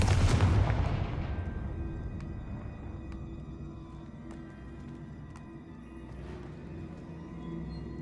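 A Confringo fire spell in the game Hogwarts Legacy goes off as a sharp, booming blast that decays into a long rumbling tail, with scattered faint clicks afterward.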